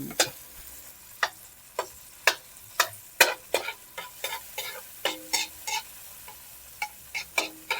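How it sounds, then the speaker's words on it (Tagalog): Tomatoes cooking in oil in a pan, a soft continuous fry with a string of sharp utensil clicks and scrapes spaced irregularly throughout, near and fairly quiet, no talking. "Bisahin natin mabuti yung kamatis at lutuin natin."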